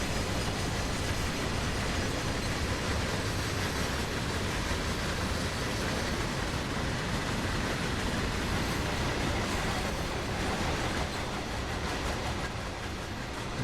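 Freight carriages roll along the track in the railway simulator game Train Sim World: CSX Heavy Haul, a continuous, heavy rumble with faint clatter that holds steady throughout, no voices.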